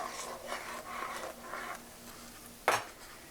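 Pots and pans being handled on a stovetop while cooking pasta for a creamy walnut sauce, soft scraping and stirring, then one sharp metallic clank near the end.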